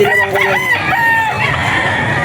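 A Super Brown Red gamefowl rooster at a pet market gives one loud, close crow lasting about two seconds, with faint market noise behind it.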